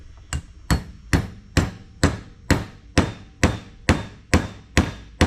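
Sharp hammer blows drive a lubricated part home on a 1964 Ford Fairlane during restoration work, twelve evenly spaced strikes at a steady rhythm, loud and close with short ringing decays and no talking.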